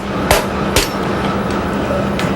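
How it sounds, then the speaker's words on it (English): The back of a heavy knife strikes a stone crab claw to crack it, giving two sharp, close knocks in quick succession. They are followed by fainter taps over a steady background hum. "use the back of a heavy knife and crack it on top of the claw"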